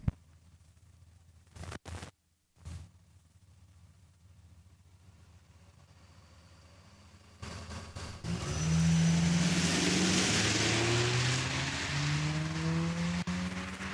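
Drag race cars launch at a Saskatchewan raceway, one of them a Duramax: quiet idling, then a loud roaring engine launch with rising revs that holds steady to the end.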